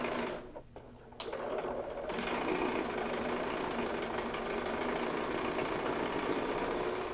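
A sewing machine runs steadily while stitching a quilt block at a 2.0 stitch length with a quarter-inch seam, its fast rhythmic whir continuous and close after a brief start-up.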